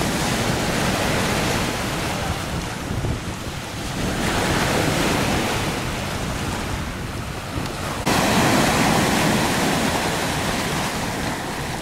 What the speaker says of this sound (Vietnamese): Đây sóng rồi.